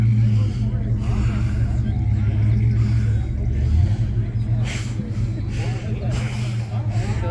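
A 1960s car at a classic car show on Bainbridge Island, fitted with a 290 engine, idles nearby with a steady low rumble and a few mild revs, while people talk over it.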